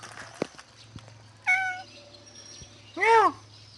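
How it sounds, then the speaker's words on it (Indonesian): Two distinct cat meows at a mosque, the second louder and more drawn out, over quiet background with a few soft taps. "Meow meow."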